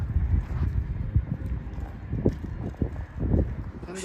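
Horse hooves clip-clop close by outdoors, a steady irregular series of muffled thuds under faint background voices.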